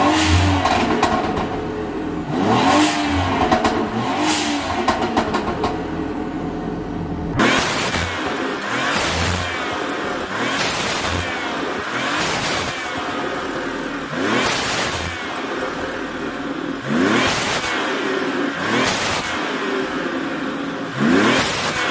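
A BMW B58 engine fitted with a blow-off valve and running anti-lag revs repeatedly in loud, close bursts, each rise ending in a sharp release, with no talking over it.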